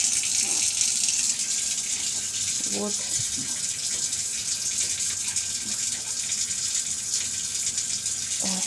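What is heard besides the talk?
running tap water rinsing a small snail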